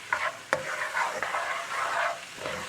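Pho ga noodle ingredients, seasoned with garlic, being stir-fried quickly in a hot pan over medium heat, with a steady close sizzle broken by a few sharp scraping stirs.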